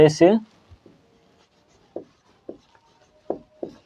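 Chalk or a marker writes on a board in a science classroom, making short scratchy strokes in several separate bursts after a teacher's brief speech at the start.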